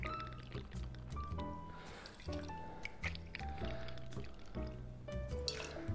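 White rum poured into a measure for a Fog Cutter tiki cocktail: a close, quiet gurgling fill with rising tones and small drips and clinks.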